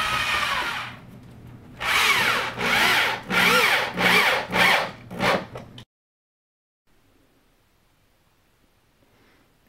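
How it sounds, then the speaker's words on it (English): A power driver sets a self-tapping screw through a Tactical Walls Patriot Edition 1440 wall insert into a 2x4, whirring in five or six loud, close bursts of shortening length before falling silent. "line up the self-tapping screw on the inside of the insert, and it's going to go into the 2x4"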